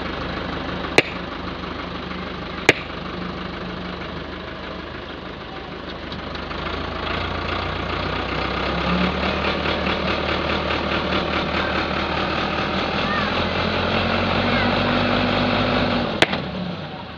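A tractor engine runs steadily close by as it pulls against tree roots, a constant loud droning hum that swells and strains slightly toward the end, with a couple of sharp clicks.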